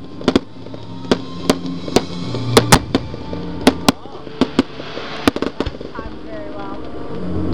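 Fireworks bursting at an outdoor display, a dozen or so sharp booms and cracks at irregular intervals, some in quick pairs, echoing over crowd chatter and a background hum, with whistling rising tones near the end.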